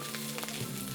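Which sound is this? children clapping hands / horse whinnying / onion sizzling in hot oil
onion sizzling in hot oil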